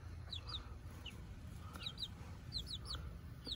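Young chickens in a brooder give repeated short, high clucks and peeps in quick pairs over a steady low background hum, fairly close and moderately loud.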